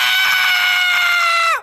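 A man, Héctor in the animated film Coco, lets out one long, loud, sustained scream that holds steady before sliding down and cutting off abruptly.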